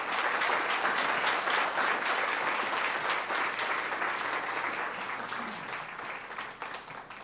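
Sustained applause from a seated audience at a school district board meeting honoring school staff, a dense steady wash of many clapping hands that slowly thins toward the end.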